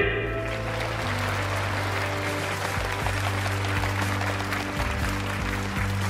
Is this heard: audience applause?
yes